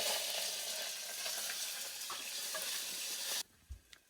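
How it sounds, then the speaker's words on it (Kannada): Peanuts, cashews and curry leaves fry in a pan with a steady loud sizzle for about three seconds, then it cuts off to a few quiet clinks and stirring knocks. "ಚೆನ್ನಾಗಿ ಫ್ರೈ ಮಾಡ್ಕೊತೀನಿ"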